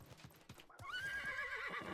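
Hooves clip-clop briefly before a horse in the video game Realm Royale lets out a loud, shrill whinny that carries through to the end of the short stretch.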